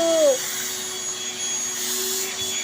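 Vacuum cleaner hums nearby in a home, its steady motor drone running continuously after a short rising whine at the start.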